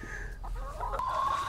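Chickens clucking softly nearby on a homestead, a few short calls and a brief rising cluck in a quiet setting.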